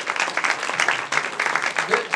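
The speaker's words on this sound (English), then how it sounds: "So let's all give him a big round of applause." An audience at a university competition event applauds, a dense burst of many hands clapping steadily for about two seconds, close and lively, with voices mixed in beneath.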